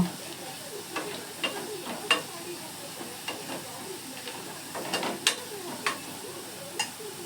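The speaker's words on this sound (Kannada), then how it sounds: "ನೋಡಿ ಈಗ ಈರುಳ್ಳಿ ಫ್ರೈ ಆಗಿದೆ" Onions frying in a pan give a faint, steady sizzle broken by repeated light stirring taps and scrapes at an uneven pace.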